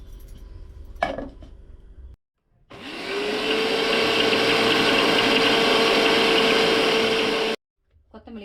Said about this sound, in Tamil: மிக்ஸி ஜாருக்குள்ளே சேர்த்து அரைச்சி எடுத்துக்கலாம்.